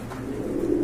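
Racing pigeons give a brief, low, throaty coo that swells slightly toward the end, close and moderately loud, lasting under a second.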